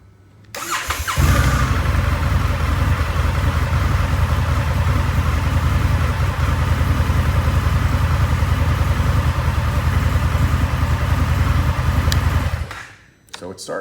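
An Indian FTR 1200 motorcycle cranks briefly, fires up, and settles into a loud, steady idle close by for about eleven seconds before cutting off.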